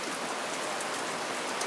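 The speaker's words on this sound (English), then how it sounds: "Look at that rain." Steady rain falls as an even, dense hiss of drops on surfaces, continuous and fairly soft, with no voices.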